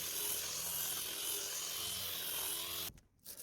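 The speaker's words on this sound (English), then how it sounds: "I do rough sanding with an angle grinder." A steady, loud abrasive whir of an angle grinder rough-sanding dry pine boards, cutting off abruptly near the end before a brief restart.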